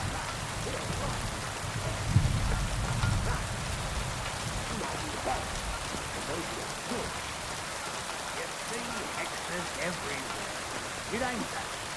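Steady rain hisses and patters throughout in the video game Kingdom Come: Deliverance II, with muffled voices talking faintly beneath it.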